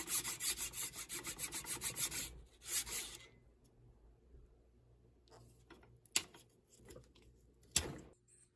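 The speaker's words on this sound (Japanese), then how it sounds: "はめ込む部分を削る前にくさびを入れるための切り込みを入れます。" A wedge notch is cut into a wooden hand axe handle with a hand tool, giving quick rhythmic rasping strokes at first, then quieter scraping with a couple of sharp knocks, all close and fairly faint.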